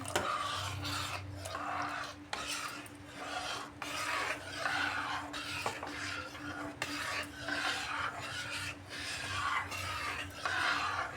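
A spoon scrapes and rasps steadily around a pan as custard powder is stirred into sago pudding, rhythmic close-up rubbing strokes with occasional metallic knocks against the vessel.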